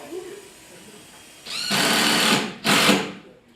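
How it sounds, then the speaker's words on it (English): A power drill drives into a robot part during a robotics build, with two loud whirring bursts close by, the first longer and the second brief. Quiet talk comes just before them. "I thought you were gonna drill it."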